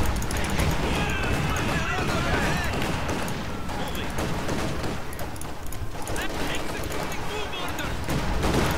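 Dense battlefield gunfire from the WWII strategy game Company of Heroes 2, continuous rifle and machine-gun bursts with heavier artillery-like booms, loud and unbroken throughout, with game voices talking over the combat.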